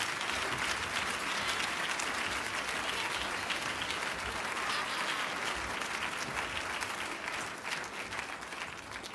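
Sustained applause from a dinner audience at an annual awards event fills the room, dense and steady clapping that continues throughout and tapers slightly near the end.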